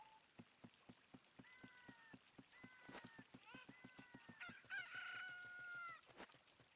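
Chickens in the Legend of Zelda Ocarina of Time video game cluck and crow in quick repeated bursts over a rapid clip-clop rhythm, with a louder crowing call near the end, all fairly faint.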